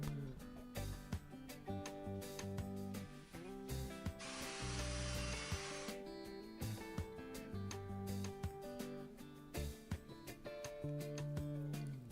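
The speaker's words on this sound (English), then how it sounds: "I'm going to use these 1-inch screws to connect it." Power driver running 1-inch screws into wooden trim on a simple scrap-wood workbench, several bursts of whirring with a longer, louder drive in the middle and short taps and handling noises between, close and without talk.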